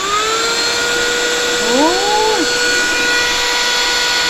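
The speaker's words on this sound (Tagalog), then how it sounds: "paparinig ko sa inyo kung gaano kalakas ang suction nito" A portable cordless vacuum cleaner runs with a steady, loud high whine and a constant airy suction hiss throughout, while a person briefly exclaims partway through.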